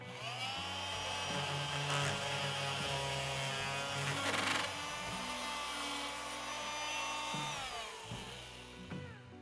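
Parkside PMFW 310 oscillating multi-tool running steadily at speed 5, a loud, continuous high-pitched buzzing whine that shifts slightly in pitch as it works, close up with no talking.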